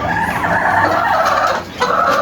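A rooster crows loudly and close by, a sustained, strained call that breaks off briefly and then starts again, heard alone without talk.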